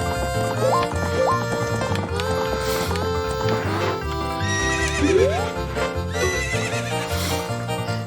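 In Ocarina of Time, a horse whinnies over busy game music, with the neigh rising clearly mid-stretch amid hoof clip-clops and other in-game sounds.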